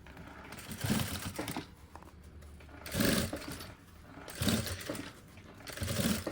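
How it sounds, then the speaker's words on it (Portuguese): A sewing machine stitches fabric for an Easter pouch, running in several short bursts of rapid stitching separated by brief pauses, close and fairly loud with no talk over it. "Eu vou costurar um pouquinho pra cá"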